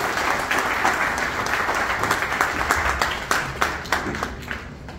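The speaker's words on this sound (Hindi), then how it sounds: "आज एमना माटे जोरदार ताड़ियों दीजिए विपुल भाई" Audience applause for Vipul bhai at a corporate event in Morbi, Gujarat: loud, steady clapping from a crowd that carries on throughout and then begins to thin toward the end.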